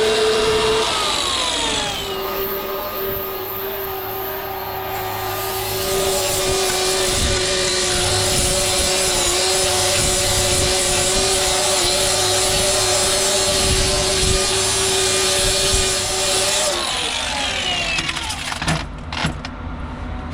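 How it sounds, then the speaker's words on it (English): A power sander works over the hopper of a Putzmeister concrete pump, a steady high whine with a constant droning tone that runs close and loud for most of the stretch before cutting off near the end. "It's sander time."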